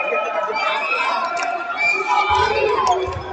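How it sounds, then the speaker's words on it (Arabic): Crowd noise fills an arena during a Tunisia versus Somalia Arab Championship men's handball quarter-final, with fans chanting for Somalia in a loud, continuous roar under steady talk. "الجماهير في الخلفيه بتقول صوماليه صوماليه"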